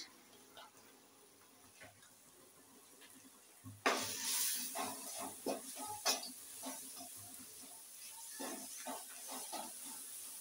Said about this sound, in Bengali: আবারও ভালো করে মশলাটা ভালো করে কষিয়ে নেব।